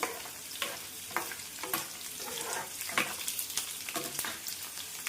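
Garlic and dried curry leaves fry in oil for a mint and coriander pickle, a soft crackling sizzle broken by repeated scraping stir strokes at a fairly quiet level.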